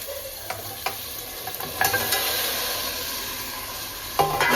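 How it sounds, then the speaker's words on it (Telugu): Mutton paya (trotter) pieces frying in hot oil, a steady close sizzle with occasional sharper crackles and pops, no talking. "దాని తర్వాత ఆయిల్ అయితే హీట్ అయిపోయింది. నెక్స్ట్ మనం ఈ పాయా పీసెస్ని వేసుకున్నాము."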